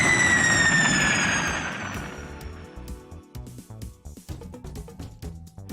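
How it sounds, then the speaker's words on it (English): A single gunpowder firework rocket launches with a loud hissing whoosh that fades over about two seconds. Scattered crackles and knocks follow nearby. "going to set the single rocket off now"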